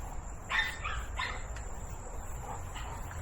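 A Cane Corso, pit bull and husky mix puppy gives a few short, thin barks outdoors, fairly faint against a steady background hum.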